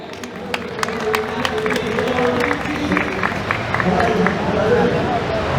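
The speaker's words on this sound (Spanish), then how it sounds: "tributarle fuertísimo voto de aplausos para el padrino Jesús" A crowd at a baptism celebration applauds steadily, sharp claps popping over a dense murmur of voices and background chatter.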